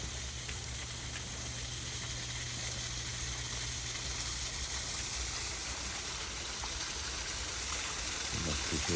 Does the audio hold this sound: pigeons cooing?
no